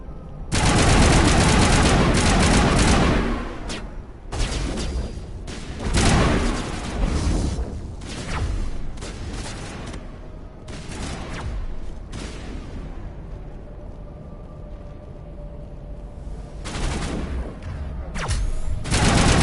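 Assault rifle fire in the Mass Effect game, loud sustained bursts of automatic gunfire with heavy booming impacts, coming in waves with short lulls across the stretch.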